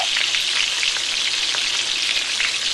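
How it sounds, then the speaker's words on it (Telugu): Fish fries in hot oil for a Telugu-style fish fry, a loud, close, continuous sizzle full of fine crackles and small pops, with no talking. "ఆయిల్ వేడైంది ఇంకా చాప ఫ్రై వేసుకుందాం"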